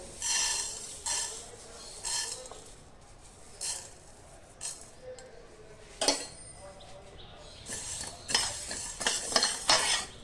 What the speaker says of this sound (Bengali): মশলাটা ভাজার জন্য আমি কড়াই দিয়ে দিয়েছি, আর এখানে আমি প্রথমে ধনেটা দিয়ে দেবো।